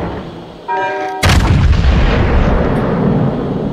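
Warship guns in World of Warships fire at a Conqueror battleship, a single heavy boom that rolls into a long, loud rumbling decay after a short lead-in tone.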